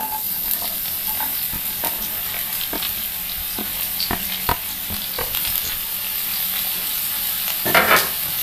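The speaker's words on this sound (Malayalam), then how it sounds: "ചൂടായ എണ്ണയിലേക്ക് സവാള ഇട്ട് കൊടുക്കാം." Sliced onions sizzle in hot coconut oil in a pan, a steady close frying hiss with occasional stirring clicks and scrapes, no voices.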